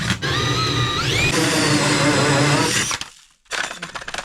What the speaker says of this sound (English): I'm going to drill our hole for our